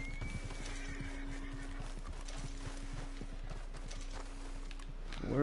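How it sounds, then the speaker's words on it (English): Hooves clip-clop steadily while a horse in Red Dead video game neighs near the start, with more whinnying at the very end, over a constant low game-world hum. "This is my horse."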